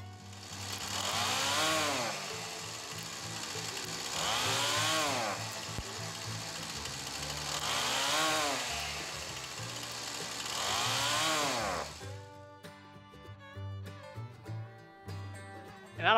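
Husqvarna 455 Rancher chainsaw, just back together after carburetor work, runs with repeated revving surges that rise and fall about every three seconds, then settles to a rough lower idle with sputters near the end.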